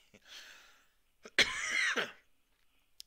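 A person coughs twice at the start of a Dominions 5 gaming session. The first cough is softer and the second is a louder, harsher burst, both close to the microphone with near silence around them.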